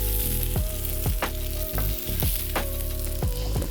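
Salmon sizzles loudly and close on a Steelmade flat top griddle, a dense continuous frying hiss with a faint steady tone and several short scraping strokes at regular intervals.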